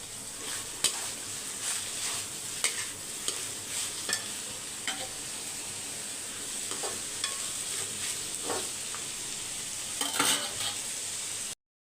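Vegetables are stir-fried in a pan for fried rice. A steady close sizzle runs throughout, broken by sharp scraping and clacking strokes of a utensil against the pan.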